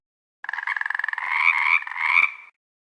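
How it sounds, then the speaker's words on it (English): A frog croaks in an animal sounds game, one drawn-out, rattling croak that starts as rapid pulses and smooths into a steady, reedy call, close and alone. "Frog."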